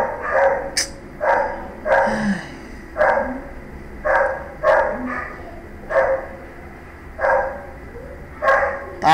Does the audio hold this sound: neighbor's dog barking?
yes